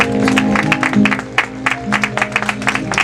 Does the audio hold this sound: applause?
yes